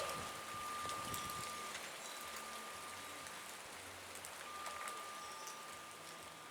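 A steady rain downpour with a little hail hisses evenly, full of dense close patter and scattered sharper ticks of drops striking surfaces, with no talk over it.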